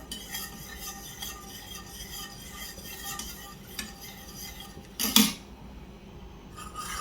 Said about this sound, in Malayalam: നമുക്കൊന്ന് ഇളക്കി കട്ട കെട്ടാതെ ഇളക്കി കൊടുക്കാം